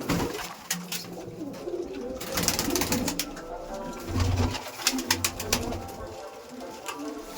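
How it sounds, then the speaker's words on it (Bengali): Madras tournament pigeons cooing at a loft, several low rolling coos overlapping in a steady chorus with soft rustling and brief flutters nearby. "পায়রাগুলো দেখছেন"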